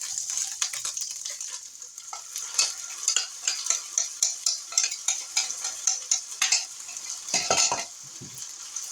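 Taco seasoning being stirred into browned hamburger meat in a pan, a spoon scraping and clinking in quick repeated strokes over a light sizzle, close and fairly loud.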